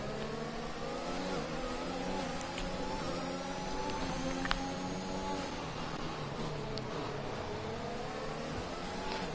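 Race car engines in a sim racing game on the Singapore circuit, several cars droning and revving together in steady overlapping harmonics, with one brief sharp click midway and no talk.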